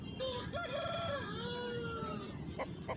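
At a rural murga market, roosters crow, one long clear crow rising and falling near at hand, with other fowl clucking and faint crowing behind amid market noise.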